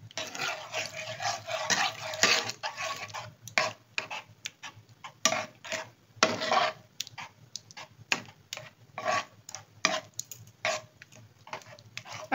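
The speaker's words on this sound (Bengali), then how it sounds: "এটা আস্তে আস্তে নেড়ে নেড়ে এটাকে ঠিক করে নেব।" Flour and milk stirred slowly in a pan, making a repeated rhythm of scraping strokes and soft taps of a spoon against the pan, each stroke close and distinct, with no talk.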